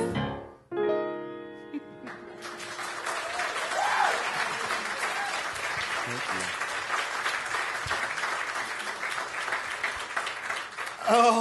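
Singing fades out and a New York club audience at The Metropolitan Room breaks into sustained applause that runs to the end, with voices rising over it in the final moment.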